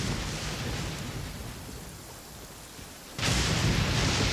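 A thunderstorm in Genshin Impact: a heavy, continuous roar of rain and rumbling that fades briefly, then swells suddenly into a loud crash of thunder.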